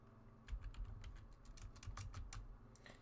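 Typing on a computer keyboard, a quick uneven run of close, crisp key clicks with short pauses between bursts and no talking.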